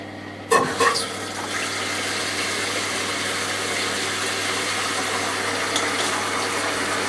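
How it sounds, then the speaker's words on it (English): Water gushing from a freshly opened tap into a container, starting with a sharp clunk and splash, then a steady, close, continuous rush of flowing water. "Open the tap."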